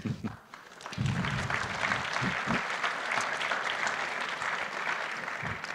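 Audience applause fills a conference talk on React and styled components, a dense steady patter of clapping that swells after a brief dip and holds loud and continuous, with no voices over it.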